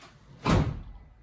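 Rear double doors of a 2022 Hobby Vantana OnTour Edition K60 FT bus camper swung shut, giving one close, solid thud with a short rattling tail.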